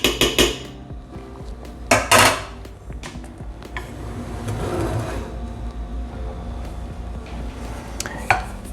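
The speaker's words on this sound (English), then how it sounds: "you can basically add your yogurt to the pot and start stirring it" Yogurt being stirred into warm milk in a pot: a few sharp clinks of a spoon against the pot at the start, then a steady low scraping and stirring murmur, close and moderately loud, with no voices.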